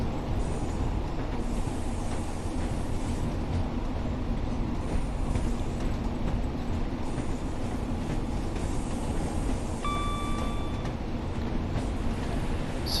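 Class 142 diesel train running in Train Sim World 6: a steady, loud rumble of engine and wheels on track throughout, with a brief tonal whine partway through, and no voices.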